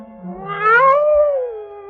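Cat-like meow voiced for the Cheshire Cat in an old radio drama adaptation of Alice in Wonderland, a single drawn-out rising and falling mewing call, close and clear, performed by a human voice imitating a cat.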